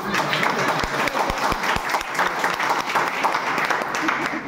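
A large audience claps loudly and steadily, a dense, sustained wash of applause with a few sharp low thumps near the start.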